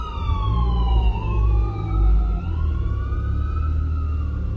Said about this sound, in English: Oh, with the sirens.